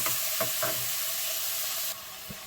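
Sliced medium onion sizzling in a hot pan, a steady frying hiss with a few soft stirring scrapes, close and alone, dropping quieter near the end.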